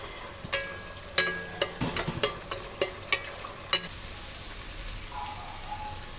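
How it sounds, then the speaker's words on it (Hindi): Masala with coriander powder roasting and being stirred in a pan, giving a run of crisp clicks and sizzling scrapes, close and moderately loud, tapering into a soft fry with no talking. "धनिया पाउडर, मसाले को अच्छे से भूनेंगे।"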